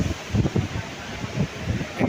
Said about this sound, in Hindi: हवा चल रही है खतरनाक वाली तूफान